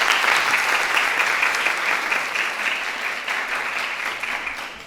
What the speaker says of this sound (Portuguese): Pedir uma salva de palmas para Ana.